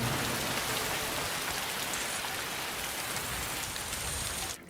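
Steady rain falls in a film scene, a dense, even hiss of drops on surfaces that holds loud and constant before cutting off abruptly at the very end.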